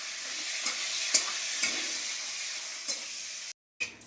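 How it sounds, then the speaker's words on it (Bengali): Bay leaves and dried red chillies fry in hot oil in a kadai for an egg chicken curry, giving a steady close sizzle with a few light stirring clicks before a brief cut of silence near the end. "তেজপাতা দিয়ে দেবো, শুকনো লঙ্কা, এটা ভালো করে ভেজে নিই।"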